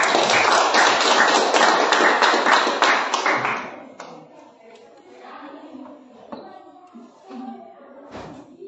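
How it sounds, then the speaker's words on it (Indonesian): Students in a classroom clap together in a brisk, evenly paced burst lasting a few seconds, then the room falls quiet apart from faint shuffling. "tepuk tangan semua"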